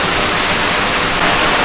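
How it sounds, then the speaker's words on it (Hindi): Heavy rain pours at night in Pune, a loud, dense and unbroken rushing hiss with no pauses and no voices. "इतना रात को बारिश हो रहा है।"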